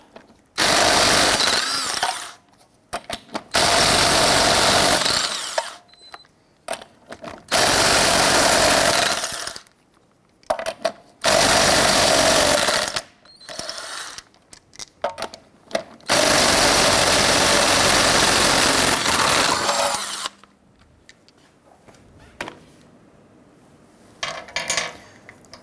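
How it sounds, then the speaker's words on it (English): A power tool with a 19 mm socket removes lug nuts from a 1999-2004 Jeep Grand Cherokee wheel, running in several loud, close rattling bursts of a few seconds each, separated by short pauses. "Using your 19 millimeter socket, loosen and remove the lug nuts."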